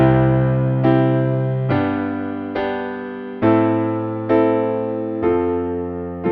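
Piano chords struck one after another at a steady pace, eight in all, each with deep bass octaves underneath and ringing before the next.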